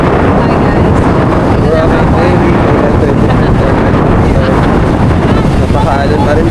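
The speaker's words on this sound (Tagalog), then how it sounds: "At malakas ang hangin." Strong wind roars steadily across the microphone on a Boracay beach, a dense, continuous rush with water and surf noise underneath, loud throughout.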